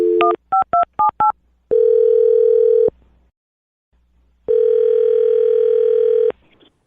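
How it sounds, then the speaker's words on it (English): Touch-tone telephone dialing: a quick run of short DTMF beeps, then two long steady tones separated by a silent gap, loud and close. "I'm going to dial his phone number right now"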